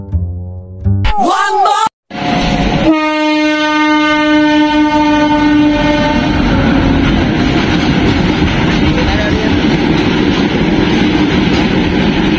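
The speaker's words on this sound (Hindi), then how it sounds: "पार हो चुकी है और दूसरी ट्रेन अभी आ रही है" A train passes close by near a dam, its horn sounding briefly before a long, loud rumble of wheels and wagons rolls steadily past.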